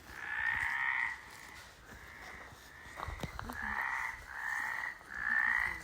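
A toad croaks in repeated rasping bursts, about five in a row with short gaps, fairly close but quiet, with a couple of faint knocks between the calls.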